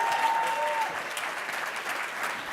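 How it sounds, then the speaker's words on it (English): Steady applause from an audience at a London founders' pitch event, filling the room for a couple of seconds as a speaker finishes, with a brief tone at the start. "Round of applause"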